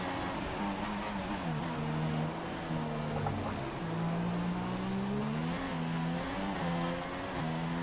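An F1 car engine in the F1 2016 game at the Hungarian Grand Prix in Budapest, a sustained high whine rising and falling through gear changes as the car laps, loud and continuous.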